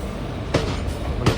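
An intercity express train on the Tirupati to Tiruvannamalai route rumbles steadily, with two sharp wheel clacks over rail joints punctuating the constant roar.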